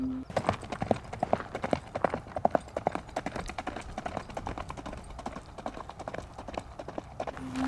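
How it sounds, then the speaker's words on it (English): Steady clip-clop of horse hooves on a hard surface, a quick even rhythm continuing for several seconds, moderately close with faint background hum. "We just saw the guy go by on his horse"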